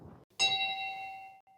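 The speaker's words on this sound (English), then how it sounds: "The bell came out of my sailboat in Panama" Brass ship's bell taken from a sailboat, struck once with a bright metallic ding that rings on with a clear lingering tone, heard alone after a brief faint murmur.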